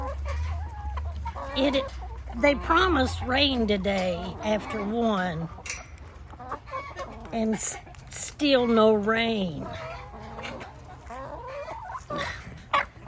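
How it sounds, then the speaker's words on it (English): Chickens cluck and murmur nearby in a dry, dusty backyard coop, with a person speaking over the birds' steady chatter. "I'm just out here checking on the chickens, going for a second round of eggs."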